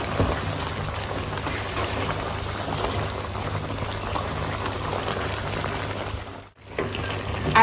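Ginger garlic paste frying in melted ghee for Peshawari beef paye, a dense steady bubbling sizzle held close throughout, briefly dipping near the end, with no speech.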